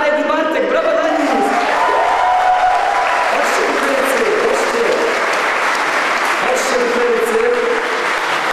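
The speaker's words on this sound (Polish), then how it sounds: "brawa dla nich!" Applause and cheering for two seminarians at a walking pilgrimage to Jasna Góra, dense continuous crowd clapping with a voice speaking over it.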